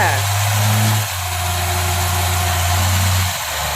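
Car engine revving hard as the vehicle pulls away at night, a loud, close roar that rises and falls in two long surges, with someone talking over it.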